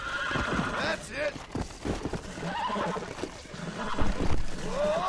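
A wild horse being broken in Red Dead Redemption whinnies repeatedly over clopping hooves, close and lively, while voices talk over the struggle.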